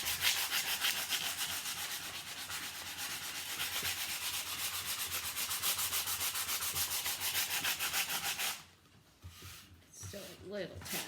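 Painted wooden sign being sanded by hand, a steady rhythmic scratchy rubbing that runs loud and close for most of the stretch, then drops away as a few quieter sounds and brief talk follow.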